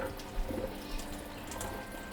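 A bowl and spoon being washed at a sink in a van, with steady running tap water and faint clinks of dishes, fairly close and continuous, with no talking.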